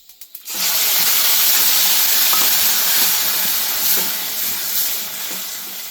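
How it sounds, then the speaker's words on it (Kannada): Mustard seeds hitting hot oil for a rasam tempering: a brief clatter as they drop in, then a loud, steady sizzle and hiss with faint scattered pops, close and without talk. "ನೆಕ್ಸ್ಟ್ ಸಾಸಿವೆ ಸ್ವಲ್ಪ ಸಿಡಿಬೇಕು"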